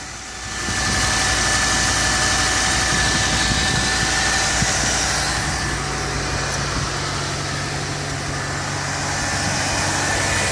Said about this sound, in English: now you can hear this engine just running like a Swiss clock